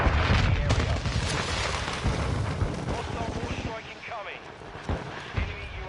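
Mortar strike explosions in Modern Warfare 2 on PS4, a run of heavy booms and blasts rumbling through the first seconds, then thinning to scattered thuds with a couple of sharper late bursts, under game noise and occasional voices.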